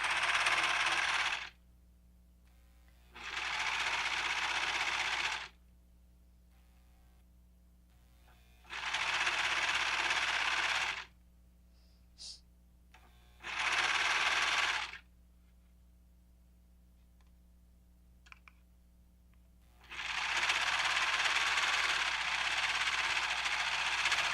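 A serger sews a fleece diaper cover in four separate bursts of fast, buzzing stitching, each a few seconds long, separated by quiet pauses with faint handling clicks, close up and without talk.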